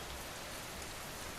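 Steady rain for a sleep story, a dense even hiss of drops falling on surfaces, soft and constant throughout with no voices.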